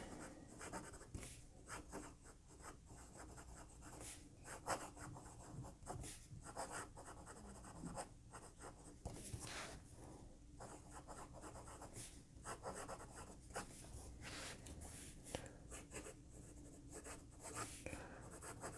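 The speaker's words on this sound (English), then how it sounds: "there you see kind of the pen in action, and I have to say that this nib is very smooth" Moonman C1 fountain pen nib writing a sentence on paper, a steady close scratchy rustle of strokes with small pauses between words, continuing alone for the whole stretch.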